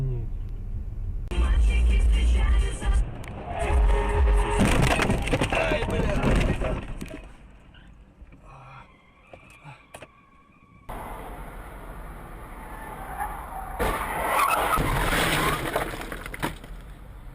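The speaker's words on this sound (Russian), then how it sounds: "авария при мне, вообще в хлам, на красный БМВ пошло" Red BMW smashed in a road crash: loud crunching impact and breaking debris in the first seconds, then quieter street noise and a second burst of clatter, with excited voices talking over it.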